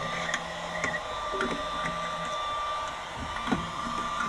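A small USB vacuum cleaner runs with a constant thin whine and a steady motor hum, its pitch holding steady and closely miked, with faint ticks and rattles over it.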